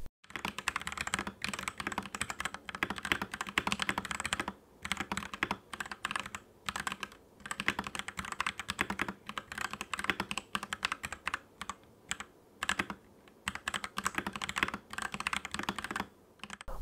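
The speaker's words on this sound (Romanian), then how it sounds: "haideți să auzim sunetul tastaturii" Mechanical keystrokes on a Royal Kludge R87 keyboard rattle in steady bursts of rapid typing, close and clear, with short pauses between runs and no voices.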